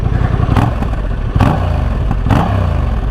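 A 2024 Honda Transalp 750 motorcycle engine idles close by and is blipped three times, each rev a sharp, loud surge that quickly falls back to a lumpy idle.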